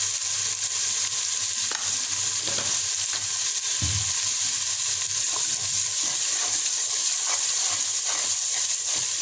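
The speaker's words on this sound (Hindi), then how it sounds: "अपने अच्छी तरह भूनना है इसको" Palak gosht, spinach and chicken, sizzles and fries steadily in a pan, with a continuous close hiss and occasional stirring scrapes throughout, no talking.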